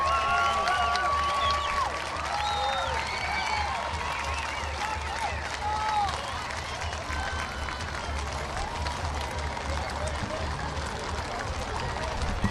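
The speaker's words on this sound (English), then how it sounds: "let's give this big cavalry of horses a big round of applause" Outdoor crowd applause and cheering for a large cavalry of horses passing in the 2023 Apple Blossom Grand Parade, a steady, dense wash lasting the whole stretch with voices and street noise mixed in.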